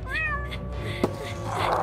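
Cat meowing in a Polly Pocket toy play scene: a clear, close meow opens, then fainter mewing sounds and a sharp tap follow amid light background noise.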